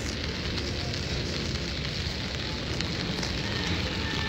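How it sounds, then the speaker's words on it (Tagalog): Steady rain falls outdoors during a family visit to a cemetery, a dense, even hiss that holds at constant loudness throughout with no voices. "It's raining."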